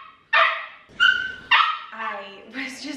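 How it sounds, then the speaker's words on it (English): A dog shut in a crate barks several times up close, sharp yaps mixed with whiny, drawn-out cries, coming in a quick, uneven series. "so she's gonna bark because I'm talking"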